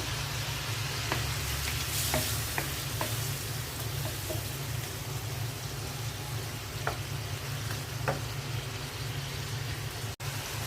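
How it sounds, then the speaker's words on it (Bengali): Fish and eggplant being stir-fried in a pan, giving a steady sizzle of frying throughout with occasional soft stirring clicks and scrapes, close and continuous with no talk. "মাছের সাথে বেগুনগুলোও দিয়ে দিচ্ছি কষানোর জন্য।"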